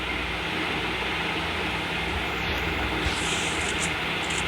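A vehicle engine drones in a ranked battle royale video game, a loud, steady, broad rumble that holds without a break throughout.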